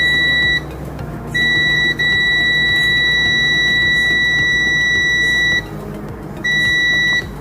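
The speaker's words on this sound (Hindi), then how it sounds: "उसके बगल में भी कुछ कैपेसिटर हमें बीप साउंड दे रहा है।" A milliohm meter gives steady high continuity beeps while probing capacitors on a mobile phone circuit board, long loud tones broken by short pauses over constant background hum.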